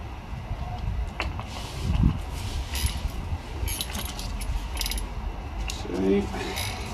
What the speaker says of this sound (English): we're going to start with 5mm Allen, and we're just going to take out the 5 bolts that hold this